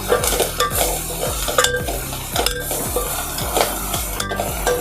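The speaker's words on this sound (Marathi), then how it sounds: "आता कोलंबी कांद्यामध्ये मिक्स केली आहे" Prawns being stirred into onion masala in a pan, a close, rhythmic series of spatula scrapes and clinks against metal over a constant sizzle, repeating roughly every half second.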